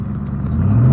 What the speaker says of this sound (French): il y a plein de voitures qui arrivent d'un coup là